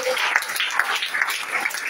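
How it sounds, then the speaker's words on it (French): Steady applause from a crowd at a church gathering, continuous clapping with a faint voice underneath. "Applaudir pour l'évêque Boucher."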